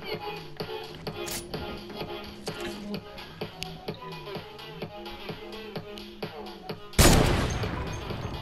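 Rapid gunfire in the Fortnite video game: a steady run of sharp repeated shots over game sounds, ending in a loud broadband blast near the end.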